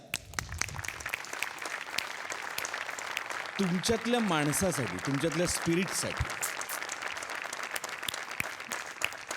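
An audience applauds at a Marathi comedy stage show: sustained clapping from a crowd, with someone speaking over it and a brief sung or drawn-out vocal passage in the middle.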